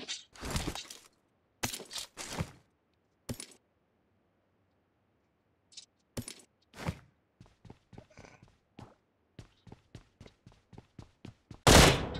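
Sharp bursts of gunfire in a video game, some in quick clustered volleys and others as isolated shots, loud and close, separated by near-silent gaps, with a final heavy blast at the end.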